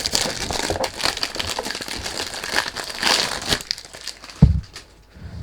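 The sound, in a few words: packaging crinkling during unboxing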